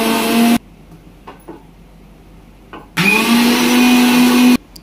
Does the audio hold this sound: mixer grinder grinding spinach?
yes